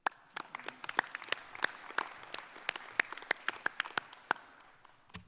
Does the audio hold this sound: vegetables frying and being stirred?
no